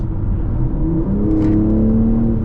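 2023 BMW M3 Competition xDrive engine pulling under acceleration from inside the car, a loud rising whirring drone with the pitch climbing steadily, no speech.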